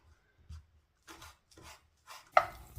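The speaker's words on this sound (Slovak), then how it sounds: "medvedí cesnak si nasekáš úplne najmnúčko" Wild garlic chopped finely with a knife on a board: four separate bursts of dull knife strikes spaced about half a second apart, close and fairly quiet, with the last burst the sharpest.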